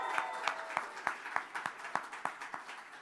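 An audience at a university celebration event claps in a round of applause. The claps fall in a regular, fairly steady rhythm, with the crowd at a moderate distance.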